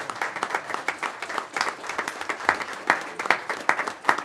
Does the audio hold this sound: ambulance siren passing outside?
no